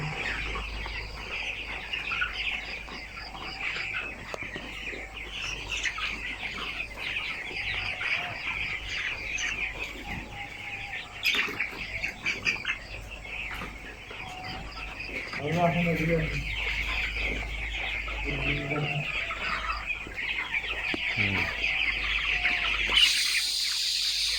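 Broiler chickens on a poultry farm cluck and chatter continuously in a dense flock, with a few louder calls standing out near the end and faint background noise under it.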